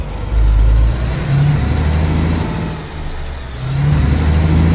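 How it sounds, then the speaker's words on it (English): A truck engine idles and swells in Alaskan Truck Simulator, its loud, close low drone rising and falling in pitch with a few revving surges, heard alone without voices. "I forgot, I left the engine running, didn't I?"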